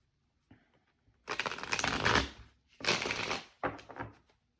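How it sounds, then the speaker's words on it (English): A tarot deck shuffled by hand, a short faint riffle, then two loud rasping bursts of cards sliding and a smaller final flutter, close up with no talking. "Let me shuffle these up real quick."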